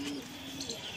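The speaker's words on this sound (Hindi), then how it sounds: "ये गल्लुआ कबूतर है हमारा, 5 साल पुराना।" A five-year-old Galluwa pigeon gives a soft, low coo, close by and faint, lasting about a second.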